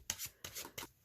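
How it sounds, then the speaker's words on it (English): Tarot cards being shuffled by hand, three or four quick papery riffles in a steady rhythm, close and crisp with nothing else heard. "I will just shuffle until I feel called to stop."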